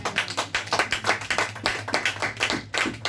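A church congregation claps together in a steady, lively rhythm of many hands, the applause filling the room close and loud throughout.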